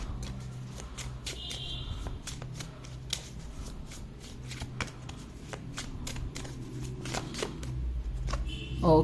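Tarot cards being shuffled by hand, a soft continuous patter of riffling and flicking cards, close and steady throughout, with no talk.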